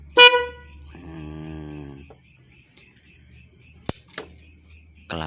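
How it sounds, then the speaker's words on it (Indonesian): Motorcycle horn sounding after a relay install, a short loud honk at the start and a longer steady tone, then a quieter spell with faint clicks and a sharp tap. "Klakson sudah menyala ya."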